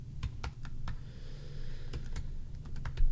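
Short three-letter names being typed on a computer keyboard, a quick irregular run of close, crisp key clicks over a low background hum.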